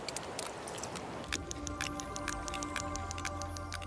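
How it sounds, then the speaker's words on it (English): Sperm whales click through a hydrophone, a steady train of sharp, evenly spaced underwater clicks over a constant watery hiss, starting after a stretch of softer crackling. "The whales are clicking away."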